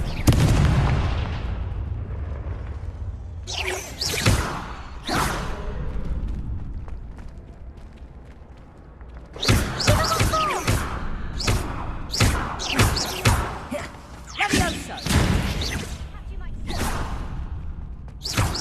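Confringo fire spells cast in Hogwarts Legacy on PS5 burst into a series of loud, booming explosions with whooshing tails, coming in clusters and separated by quieter stretches where a voice is heard.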